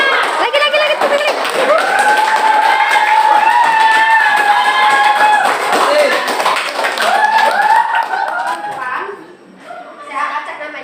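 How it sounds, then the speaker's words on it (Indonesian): Classroom audience clapping together in a sustained, loud burst of applause with some cheering, mixed with overlapping voices and chatter, tapering near the end. "Lagi, tepuk lagi."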